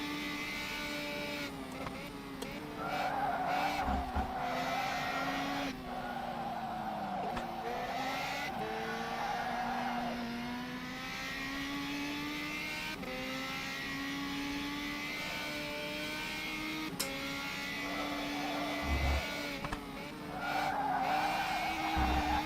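A drift race car in the sim racing game rFactor 2 slides sideways with long, wavering tire squeals over a revving engine, continuous and close for the whole stretch.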